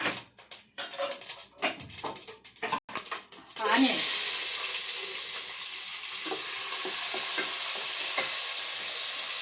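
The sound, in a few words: onions frying in oil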